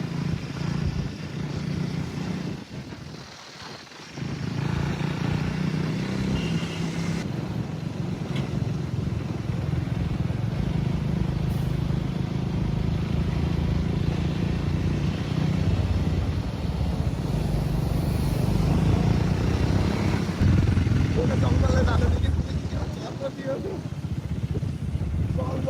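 A motorcycle rides along a clean mountain road on the way to Palpa, its engine drone and wind rush steady and close throughout, with people talking over it.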